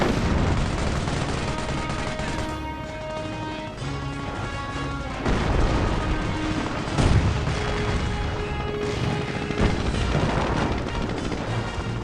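An artillery barrage in the mobile strategy game Company of Heroes Mobile, with loud, continuous booming and crashing explosions over a dense layer of in-game sound.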